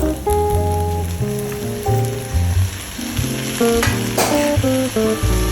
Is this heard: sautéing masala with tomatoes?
yes